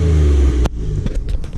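A 2019 Ford Raptor pickup's non-V8 engine revs loudly and then drops off abruptly, leaving a rough, burbling exhaust idle with small pops, close by.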